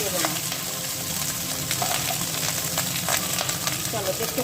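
Rice frying in ghee with bay leaf, garam masala and cinnamon sizzles steadily up close, with scattered scrapes and clinks of stirring over the crackle.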